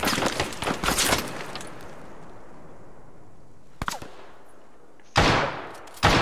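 Gunfire in a World War II shooter set during the Third Battle of Kharkov comes as loud bursts of rapid shots, first a dense volley, then a lone crack and a final pair of sharp blasts over a low rumbling background.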